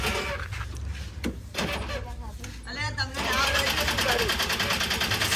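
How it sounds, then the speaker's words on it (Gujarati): An auto rickshaw engine catches and settles into a fast, rattling, pulsing idle nearby, while people talk over it. "રિક્ષા ચાલુ થઈ ગઈ છે"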